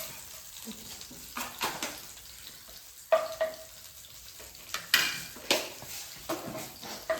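Mustard seeds fry in a hot pan, a soft crackle punctuated by scattered sharp pops and brief bursts of spattering, close and fairly quiet.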